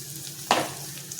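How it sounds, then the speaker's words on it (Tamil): Small onions with turmeric, chili and coriander powder sauté in a pan, a short burst of sizzling and a single stirring scrape rising over a steady low hiss, close and brief. "அப்போ தான் அந்த வெங்காயம் சீக்கிரம் வதக்கிக்கலாம்"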